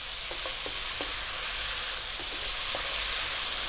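Bell peppers stir-fried on high heat for a Chinese dish, giving a loud, constant sizzling hiss up close, punctuated by light tapping clicks of a utensil against the pan.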